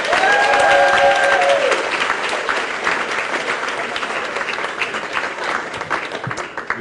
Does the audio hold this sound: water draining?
no